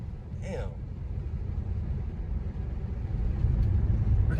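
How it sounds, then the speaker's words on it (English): An HKS blow-off valve on a BMW car lets out one short, sharp, fluttering hiss near the start, followed by a low, steady engine and road rumble. "Hear the sound of blowout valve, man."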